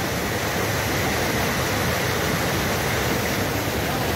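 A river flows near fish pools holding large salmon, a steady, broadband rush of water that fills the clip evenly and loudly, with no voices.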